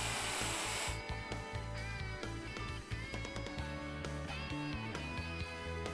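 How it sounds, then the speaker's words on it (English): A router cuts a mortise in a wooden board clamped in a Leigh FMT mortise and tenon jig: a steady, loud whine with rhythmic pulsing bursts as the bit plunges and travels through the wood. "Clamp it in place and route the mortise."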